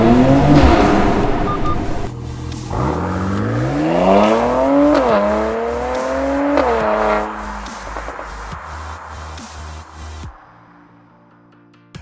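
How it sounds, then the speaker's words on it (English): A 2019 Mercedes C43 AMG in Sport Plus mode with the AMG Performance Exhaust revs and accelerates through an underground car park. The engine note climbs through several rising sweeps and shifts, echoing loudly, before cutting off at the end. "First drive in an underground car park in the C43 in Sport Plus with the AMG Performance Exhaust."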